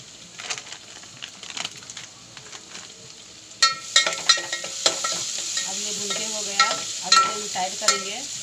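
Peanuts being roasted in a pan for upma give a dry, rattling sizzle, with light scraping and clicking stirs that grow busier and louder partway through.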